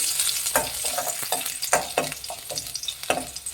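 Peeled garlic cloves fry in about a tablespoon of hot oil, a close crackling sizzle punctuated by irregular sharp stirring scrapes, with no voices.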